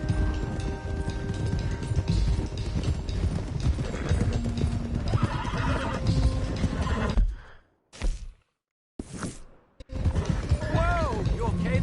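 Horses in the video game Red Dead Redemption 2 clatter at a gallop with repeated hoofbeats and whinnies over busy game sound and some voices, then a few brief gaps of near silence before the noise returns.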